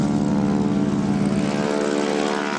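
A Messerschmitt Bf 109G-2 propeller fighter flies at an autumn air show at Duxford, a loud continuous engine drone with steady propeller hum that dips slightly toward the end.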